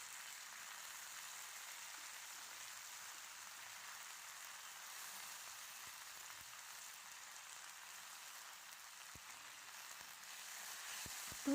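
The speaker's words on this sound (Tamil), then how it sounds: "இதோட பச்சை ஸ்மெல் போகிற வரைக்கும் நல்லா வதக்கிக்கலாம்." Thoothuvalai (Solanum trilobatum) leaves sautéing in a pan for a thuvayal give a soft, steady, faint hiss throughout, like light rain, with a few tiny pops and a small clatter at the very end.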